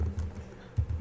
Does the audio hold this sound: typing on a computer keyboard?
yes